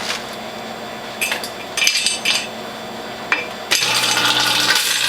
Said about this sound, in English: the first thing I'm going to do to cool down the feed tube and the cutter is add 3 or 4 ice cubes